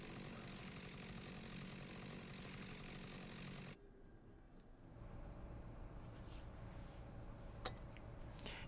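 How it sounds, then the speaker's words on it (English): A chainsaw in the video game Dead Rising runs with a dense, buzzing roar for nearly four seconds, then cuts to a quieter rumbling idle with a faint background hum. "Give me that chainsaw."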